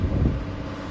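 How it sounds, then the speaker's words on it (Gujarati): Strong wind blows hard on an open road before a storm, a brief, loud, rumbling gust buffeting the microphone. "અત્યારે તમે પવન જોવો ફૂલ પવન ફૂંકાઈ છે"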